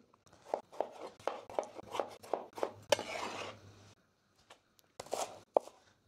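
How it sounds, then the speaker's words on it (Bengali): A knife chopping two tomatoes into large pieces on a cutting board, a quick series of close, crisp thuds in steady rhythm, a brief scraping pause, then a few more cuts. "আর আমি 2টা টমেটো নিয়েছি, টমেটোগুলো একটু বড় সাইজ করে কেটে নিই।"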